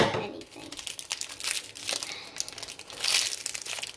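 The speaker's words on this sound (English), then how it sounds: "I'm gonna have to use some scissors for this." Plastic toy packaging is cut and crumpled with scissors, giving continuous crinkling and crunching with sharper snips throughout, close and moderately loud, while a voice talks faintly in the background.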